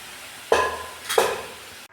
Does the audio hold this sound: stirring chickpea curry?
yes